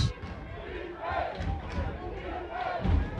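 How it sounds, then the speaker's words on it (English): At a college football game, the Cougar crowd chants "defense" from the stands, a rolling, rhythmic wall of many distant voices, moderately loud and steady. "a little chant of defense from the Cougar crowd"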